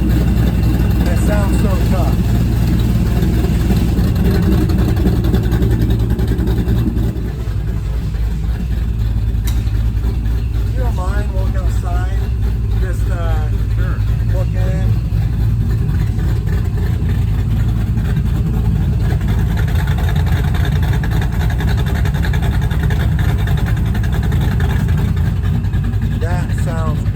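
A 2005 Ford Mustang with a Paxton supercharger idles steadily with a low, continuous rumble throughout, as a person talks intermittently over it.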